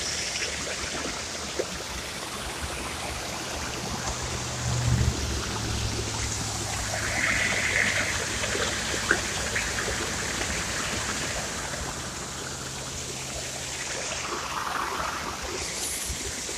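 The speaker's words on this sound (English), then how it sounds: "This is our pond." Outdoor pond water gives a continuous broadband rushing and trickling wash, steady and moderately loud throughout with no voices.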